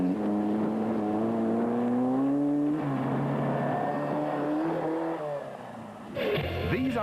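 Opel-powered Class B Sandmaster off-road race car driven by a father-and-son team, its engine droning steadily with rising and falling pitch as it runs past, then a sharp rev change near the end.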